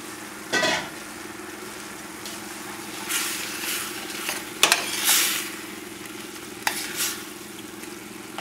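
Ground fresh tomatoes going into a pot of frying ground beef chili with red beans, giving a steady soft sizzle with occasional stirring scrapes and spoon clinks.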